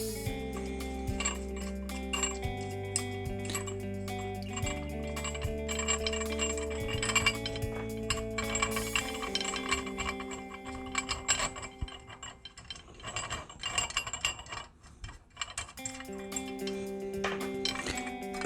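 A ratchet works 7/16 bolts loose on a 1-inch Febco 860U backflow preventer, producing close, rapid ticking and clicking in uneven bursts with a brief quieter gap near the end.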